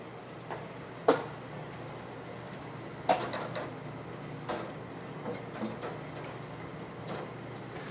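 Quiet, steady bubbling sizzle of food deep frying in oil at about 340 to 350 degrees, with occasional soft pops and clicks, fairly faint and continuous, with no voices.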